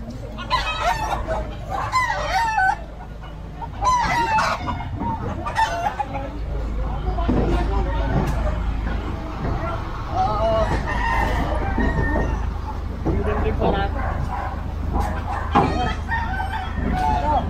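Chickens and roosters kept on an occupied site crow loudly and cluck nearly nonstop. Several birds call close by over a low background rumble, and people talk in between.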